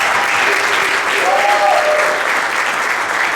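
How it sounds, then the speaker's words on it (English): Applause from an audience at a spring band concert by a community wind ensemble, a thick, even wash of clapping that holds loud and steady throughout, with a brief whistle near the middle. "we can clap for him again for sure"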